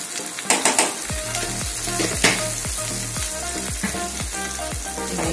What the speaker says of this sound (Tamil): எண்ணெயிலே போட்டு வதக்கிடணும்